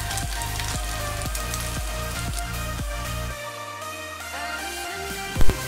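Murtabak frying in a hot pan, a steady crackling sizzle with faint spatter throughout, a few soft rhythmic thumps early on and a single sharp knock near the end, no voices.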